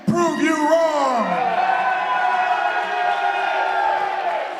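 A studio audience at a wrestling show cheers, whoops and shouts loudly and steadily throughout, a dense crowd roar with some sustained bellowing voices near the start.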